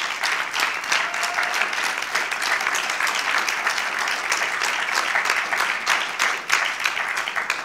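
An audience at a health conference applauds steadily throughout, many hands clapping in a dense, even roar with no voices standing out.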